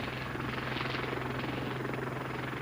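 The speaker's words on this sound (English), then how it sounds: "The Westland Lynx is undoubtedly the best helicopter yet developed in the UK" A Westland Lynx military helicopter with two turboshafts driving a semi-rigid main rotor holds a steady, loud turbine whine and rapid rotor chop throughout, alone with no voices.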